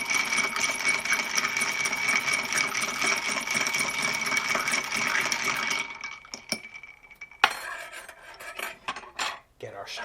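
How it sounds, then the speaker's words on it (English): Steady metallic rasping and clinking of a spoon stirring a Manhattan cocktail in a mixing glass for several seconds, then a few scattered clinks and rustles. "Let's give this a stir."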